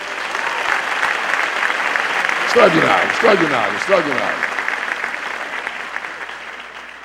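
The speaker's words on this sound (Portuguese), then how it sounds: "Vamos oferecer um aplauso para ele agora." Church congregation applauding together in a steady, dense wash of clapping, with a voice calling out loudly over it partway through.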